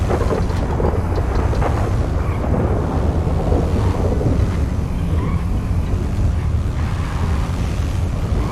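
Thunder rumbling in a GTA roleplay game during a storm, a steady loud low rolling roar with gusty wind-like noise throughout, no voices.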